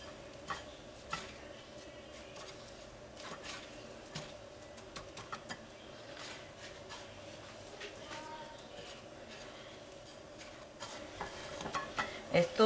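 Breaded tilapia fish fillets frying in a pan, giving a steady, quiet sizzle throughout with light scattered clicks and a few louder bumps toward the end.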